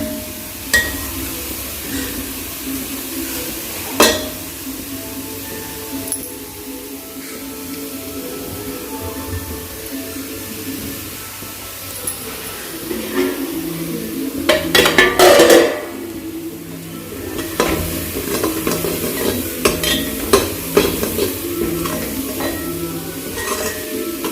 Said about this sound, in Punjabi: ਸਿਮ ਕਰਕੇ ਹੁਣ ਭੁੰਨ ਲੈਣਾ ਹੈ